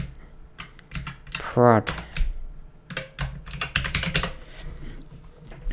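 A command is typed on a computer keyboard in quick bursts of close, crisp keystrokes, with a short spoken word partway through and further rapid key clatter afterward.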